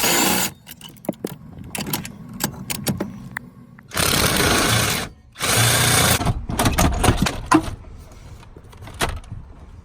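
Power tool whirring in short bursts while removing steering column nuts on a Dodge Ram, with longer loud runs between metallic clicks and clatter of nuts and tools; no voices.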